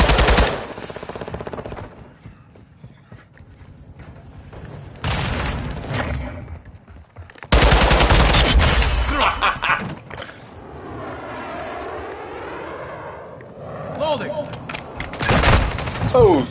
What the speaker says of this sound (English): Making effective fire